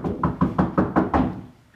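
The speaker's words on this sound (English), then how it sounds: "Knock, knock, knock." Six firm, evenly spaced knocks on a door during a hockey-themed staging of Macbeth, each sharp rap ringing briefly, close and loud with no talk.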